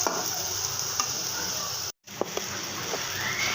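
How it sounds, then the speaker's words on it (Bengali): Spring onion leaves frying with chopped vegetables in a pan, a constant close sizzle with a few sharp spoon taps and scrapes, broken by a brief silent cut near the middle. "পেঁয়াজ পাতাগুলো একসাথে ভেজে নেব"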